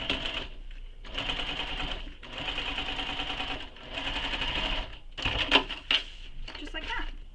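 A sewing machine top stitches the lining of a handmade convertible bag, running in several sustained bursts of close, steady whirring separated by short pauses, with a few clicks and handling sounds near the end.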